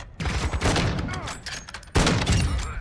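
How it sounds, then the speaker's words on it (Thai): Rapid bursts of gunfire in Call of Duty Modern Warfare II DMZ crackle loudly and continuously, with a fresh barrage kicking in partway through, dense and close. "ปืนมันก็เสียงดังเสียงดัง"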